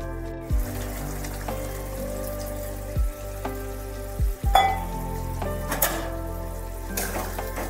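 Green pea curry in a pan sizzles hard after water goes in, a loud crackling hiss with a few sharp clatters of a spoon against the pan and bursts of spattering, with no voices.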